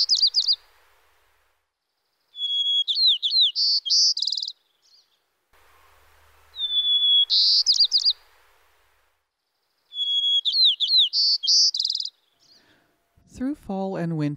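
A white-crowned sparrow sings clear whistled phrases ending in buzzy trills, heard three times with quiet gaps between, close and alone. A brief low thump follows at the end.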